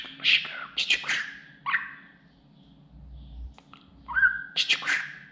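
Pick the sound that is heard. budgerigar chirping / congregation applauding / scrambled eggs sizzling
budgerigar chirping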